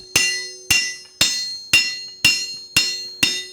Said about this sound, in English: get it over to the anvil here. And you can see it's hot. I'm just going to smash it around. Put some dents into it.